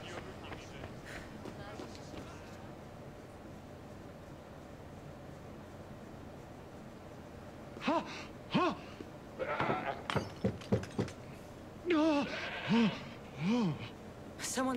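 Goat bleating in the Assassin's Creed Odyssey video game, several wavering bleats in short bursts from the middle of the clip onward over low background ambience.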